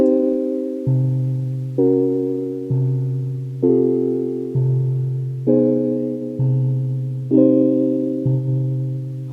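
Analog synth seventh-chord stabs with a warm tone, about ten evenly spaced chords over a steady low bass pulse in a lofi hip hop track, no voices.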